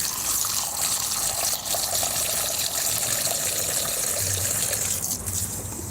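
Water from a hose runs steadily into a container while a suspected dragon's egg stone with a calcium carbonate shell is being cleaned, a continuous close gushing rush with no talking.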